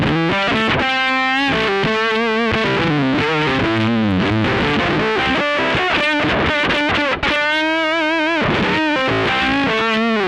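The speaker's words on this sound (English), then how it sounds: "turn on the ringer fuzz. It's really gnarly." Heavily fuzzed electric guitar, a PRS SE Hollowbody McCarty through a Ringer fuzz with amp reverb, playing a busy, saturated riff with a gnarly, buzzing tone, loud and continuous, no voices.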